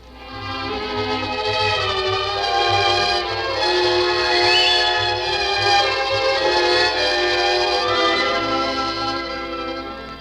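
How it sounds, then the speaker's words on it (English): A train's steam whistle sounds in one long, loud, sustained blast in a radio drama sound effect, holding steady for about ten seconds before tapering slightly. "went direct to Euston Station, where he boarded a train for Coventry"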